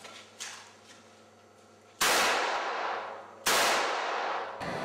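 Two loud, close gunshots from police firearms training, each a sharp broadband crack with a long decaying tail, about one and a half seconds apart, and a third shot beginning right at the end; a faint earlier click precedes them.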